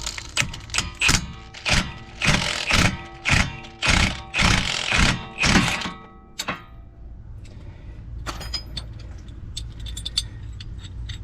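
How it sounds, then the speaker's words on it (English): Repeated sharp metallic strikes from a ball joint tool separating the suspension of a Toyota Highlander during a passenger-side CV axle replacement, about ten loud hits in steady rhythm, then quieter clinks and shop noise. "I'm going to use this ball joint tool right here"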